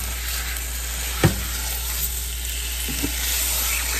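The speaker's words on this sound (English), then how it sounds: "I've got it good and seared on all sides here." A pot roast sears in a hot pan with a steady, even sizzle throughout, a couple of brief clanks or stirring bumps breaking through near the middle.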